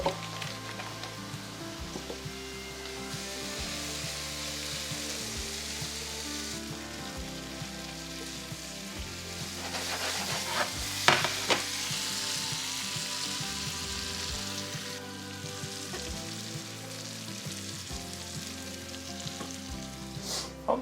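Butter sizzles and spits steadily in a hot pan while steak for pepper sauce is being cooked, a constant close frying hiss with faint clinks and no talk.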